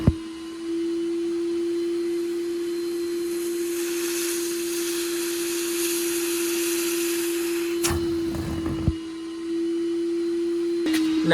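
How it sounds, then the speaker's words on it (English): A steady, loud vacuum extractor motor drones with a constant high whine, briefly cut by a couple of harsh bursts as the nozzle shampoos a car seat's fabric. "I'm probably gonna spend another 10 minutes on shampooing this seat really quick"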